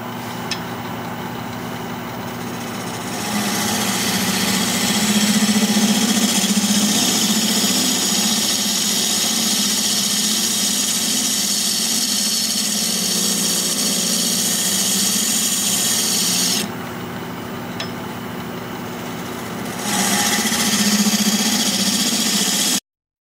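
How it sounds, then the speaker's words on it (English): A wood lathe spins a bowl at 900 RPM while a 5/8 inch bowl gouge cuts it. A steady motor hum runs throughout and swells louder during two stretches of cutting. "We're going to be turning at 900 RPM, 5/8 inch bowl gouge,"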